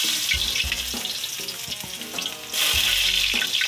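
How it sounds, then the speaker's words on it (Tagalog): Garlic sautés in a hot pan with a loud, dense sizzle that stays close and continuous, broken by a few stirring knocks. The frying surges louder near the end and there is no talk. "Garlic. Gigisahin natin guys."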